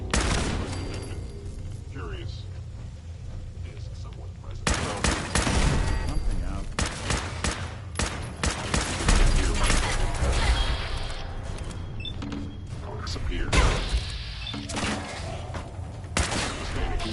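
Automatic gunfire in Fallout 4, bursts of rapid shots breaking out repeatedly over a long stretch, loud and dense at times with crashes mixed in, while a person talks throughout.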